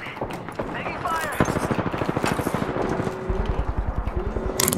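Rapid gunfire in a video game firefight, a steady stream of close, loud shots in quick rhythm with brief pauses, mixed with voices talking over the action.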